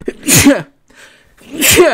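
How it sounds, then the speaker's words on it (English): A loud, close sneeze bursts out, with a short spoken word in the brief pause around it. "Sorry, I had to sneeze."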